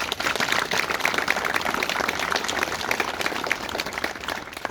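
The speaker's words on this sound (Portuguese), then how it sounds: "Merecido também aplauso" Clapping rises from a gathering at a monument ceremony for ex-combatants in Vilar Seco: a continuous, moderately loud patter of many hands with no voices over it.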